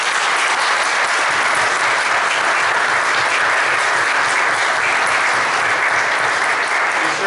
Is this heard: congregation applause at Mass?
yes